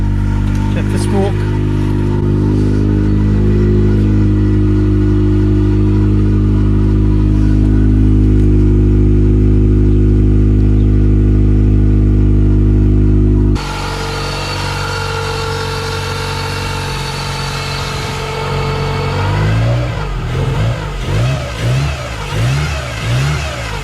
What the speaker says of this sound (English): Right, let's fire it up, check it in neutral, key in.